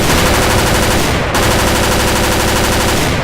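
Dense, continuous automatic gunfire is aimed at an Apache helicopter in the Battlefield Iraq video game, loud and unbroken across the whole stretch.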